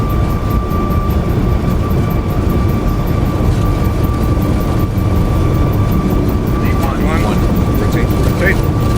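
Steady engine roar of a Boeing 757-200 accelerating down the runway on its takeoff roll in the X-Plane 12 flight simulator, continuous and loud throughout, with a pilot's voice calling out over it.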